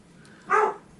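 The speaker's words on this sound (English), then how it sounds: "I have a dog and he likes to bark." A single short dog bark rings out nearby in a quiet room, brief and fairly loud against faint background hiss.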